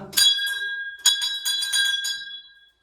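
A temple bell at a shrine to the goddess Bhavani during the Chaitra Navratri festival rings in several clear metallic strikes, each leaving a bright, shimmering tone that rings on and fades out, close and fairly loud.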